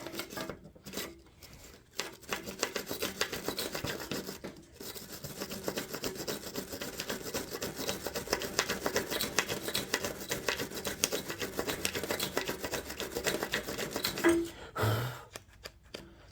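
Old grease is scrubbed and scraped off the 38-inch mower deck of a 2004 Murray tractor, a busy close rasping and brushing that runs on with short pauses.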